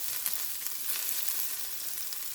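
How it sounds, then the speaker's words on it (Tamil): Ladies finger (okra) sautés in a pan with a soft, continuous sizzle and faint crackle, steady and fairly quiet throughout with no voices. "அதை இப்படியே நல்லா அப்படியே வதங்க விடுங்க"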